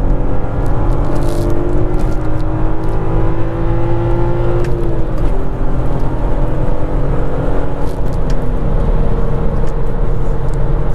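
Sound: Volkswagen R32 engine on the freeway

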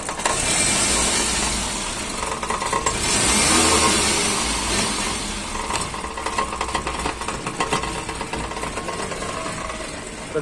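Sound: car engine idling and revving

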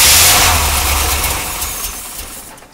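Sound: 1980 Corvette C3 engine starting and running briefly

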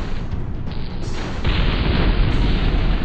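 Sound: enemy vehicle exploding in Mech Commander video game

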